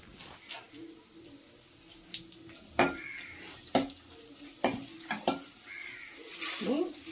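Cumin and mustard seeds fry in a pan as a tempering for a yogurt curry. A soft sizzle runs underneath while sharp metal clinks and scraping stirs break through at irregular intervals.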